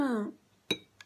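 A metal spoon clinks against a glass while scooping yogurt: a brief voice first, then three short, bright taps close by.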